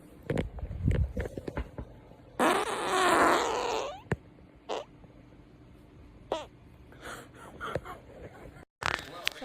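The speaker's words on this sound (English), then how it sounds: "That's a grumpy fart." A drawn-out, raspy fart rumbles for about a second amid scattered short noises, with people talking and reacting around it.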